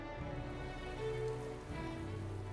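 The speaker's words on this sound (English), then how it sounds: "It's also raining." Rain falling in the video game Metaphor: ReFantazio, a continuous soft patter on surfaces, steady and alone against quiet game ambience.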